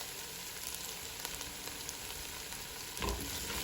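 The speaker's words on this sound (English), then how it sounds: "And let's saute this for about 5 minutes." Diced ingredients for a Mexican potato and cheese soup sauté in a pan, giving a steady, close sizzle and crackle with a brief louder burst near the end, and no talking.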